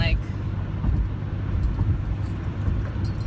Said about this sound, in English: I know it's really loud because I'm in the car and I'm going 70 miles an hour